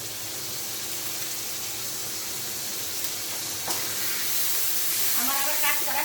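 Ginger frying in a pan during home cooking, a steady broadband sizzle throughout that swells louder toward the end as more ingredients go in, with faint voice underneath.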